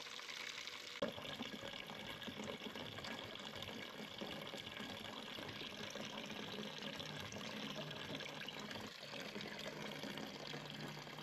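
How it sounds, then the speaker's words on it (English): Water gushes steadily into a bowl from a tap, a continuous, fairly quiet rushing flow that starts abruptly and runs unbroken for several seconds before cutting off near the end. "Now I'm gonna put some water in the bowl."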